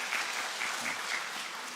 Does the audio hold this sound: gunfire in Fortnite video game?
no